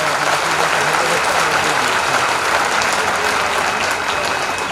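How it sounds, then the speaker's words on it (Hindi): A convocation audience at Siddharth University gives loud, sustained applause for graduating students, a dense, even roar of clapping filling the whole stretch with no pauses. "हम सब साथ में मिलकर सभी बच्चों के लिए तालियां बजाएं"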